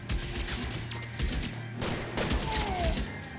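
Automatic weapon fire from the L.A. Noire video game crackles in scattered bursts, mixed with thuds and crashing impacts close by.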